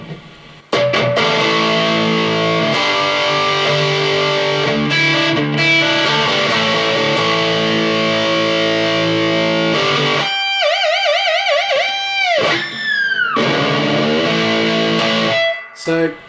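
Distorted electric guitar through an EVH 5150 Iconic Series 15W 1×10 tube combo, guitar volume around 5: loud sustained chords, then a break filled with warbling, wavering high harmonic notes before the chords return.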